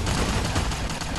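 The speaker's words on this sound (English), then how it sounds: "Grenade machine gun." Grenade machine gun firing in Fallout: New Vegas, a dense rapid stream of loud, close explosive thumps merging into one continuous roar for about a second, with no talking.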